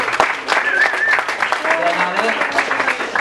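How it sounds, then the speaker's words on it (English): A comedy club audience claps in a lively burst, the applause mixed with a few voices and a faint whistle. "The applause is running out."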